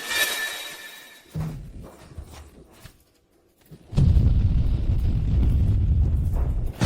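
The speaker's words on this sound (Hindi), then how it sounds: "ये तो परमाणु बम है।" An atomic bomb goes off in an animated story: a few sharp bursts, then a loud, deep, sustained roaring rumble that swells in and fills the rest of the clip, with no talking.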